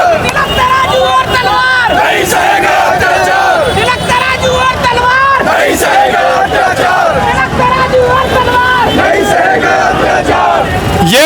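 A huge crowd of protesters shouts and chants in a Delhi street, a loud, dense and unbroken roar of many voices with rising and falling cries layered close together.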